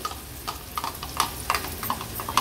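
Onion with crushed ginger, garlic and green chili sautéing in oil for a dahi besan pithla, a soft steady sizzle with light, irregular scraping stirs of a spoon, no talking.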